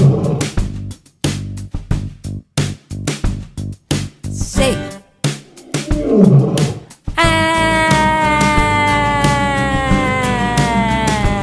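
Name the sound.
lion roaring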